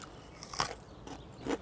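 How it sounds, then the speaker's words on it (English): Roast pork crackling cooked in a camp oven over campfire coals gets bitten and crunched in a few faint, brittle cracks spread over a moment. "Bit of crunchy on the old pork."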